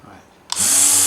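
Electric motor of a Micro Steel World RC Bobcat model switching on after a quiet moment, jumping to a steady, loud high-pitched whine that holds to the end.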